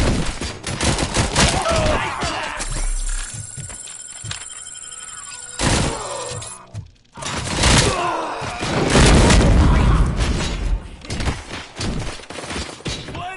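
Combat in RoboCop: Rogue City brings rapid, heavy gunfire in dense bursts with booming impacts. There is a brief lull before louder volleys resume, and shouting voices can be heard in the mix.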